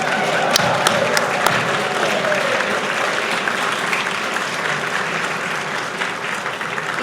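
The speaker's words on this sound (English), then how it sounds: "giving him a huge round of applause, Mr. David Lodwick" A large audience gives a sustained round of applause at an anniversary gathering, dense, even clapping with a few sharper claps near the start.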